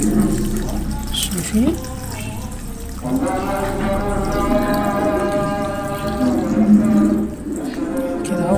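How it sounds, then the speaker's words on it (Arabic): Water poured over lemons in a jar for pickling, a running, splashing pour with shifting gurgles, heard under someone speaking Arabic. "بعد ما هو كده خليناه هنحط عليه الميه بتاعته."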